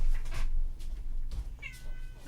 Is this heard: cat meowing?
yes